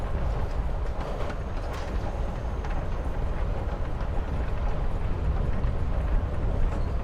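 A train carries passengers in Life is Strange: Before the Storm, giving a continuous dense rumble and rattle from inside the carriage, steady and fairly loud throughout with no speech over it.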